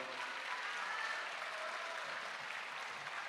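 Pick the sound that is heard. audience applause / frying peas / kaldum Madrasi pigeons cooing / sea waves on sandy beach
audience applause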